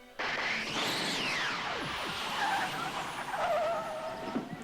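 A DeLorean car engine in the Back to the Future video game revs and whooshes past with tire squeals and descending pitch sweeps, arcade-style racing sounds playing continuously without speech.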